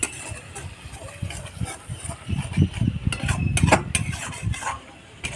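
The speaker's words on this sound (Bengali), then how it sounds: "হালকা আগুনেই ভেজে নেব" Spice paste (masala) for raw banana kofta curry fries on a medium-low flame, with steady stirring, spoon scrapes and clinks against the pan over a soft sizzle.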